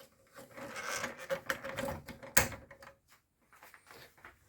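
Plastic clips snap and scrape as the top cover of a Canon LBP151dw laser printer is pried loose, a close cluster of rubbing creaks with one sharp crack midway, then quieter fumbling.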